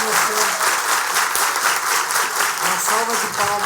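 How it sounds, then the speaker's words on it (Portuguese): After a physiotherapy talk at an annual gathering, an audience applauds loudly and continuously, with a voice or two faintly audible beneath the dense clapping. "Uma salva de palmas"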